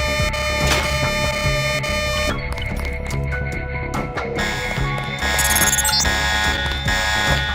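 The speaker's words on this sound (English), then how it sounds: "This is the guy who sounded the alarm when he saw you." An alarm in the Deus Ex video game sounds as a loud, continuous electronic ringing tone with mechanical rattling and buzzing layered over it, steady throughout.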